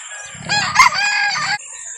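A rooster crows once, loud and close, at a chicken market in Calauan, a single drawn-out cock-a-doodle-doo that rises, holds, then cuts off, with faint background clucking.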